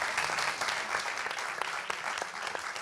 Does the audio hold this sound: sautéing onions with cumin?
no